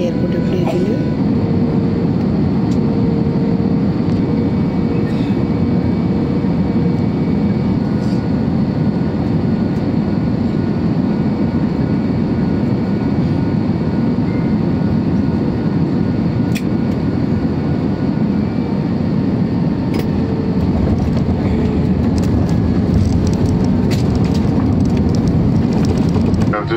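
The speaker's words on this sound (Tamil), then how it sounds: "ஃப்ளைட் லேண்டிங் ஆக போகுது." A passenger airliner lands at Kuala Lumpur International Airport Terminal 2, heard from inside the cabin as a loud, steady roar of engines and airflow that holds unbroken throughout, with a voice briefly audible.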